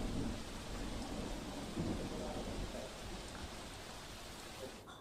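Heavy rain falls across Surat in a steady, dense hiss with low thunder-like rumbles beneath it, faint and distant throughout and with no talking.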